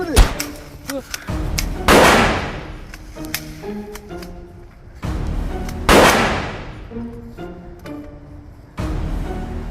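Gunfire in a dramatic production about a time-travel hunting trip, with repeated loud booming blasts that ring out and decay, separated by tonal musical passages.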